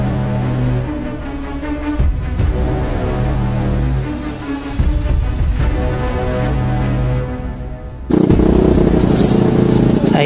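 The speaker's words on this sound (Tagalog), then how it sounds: "nagwa-warm up na ang ating Suzuki X4 at ang ating Honda XRM" Two motorcycles, a Suzuki X4 and a Honda XRM, idle and rev as they warm up, their engines loud and steady throughout, with a sharper surge of revving near the end.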